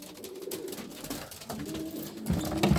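Pigeons coo softly and repeatedly amid rustling and shuffling, low throaty calls that swell a bit toward the end.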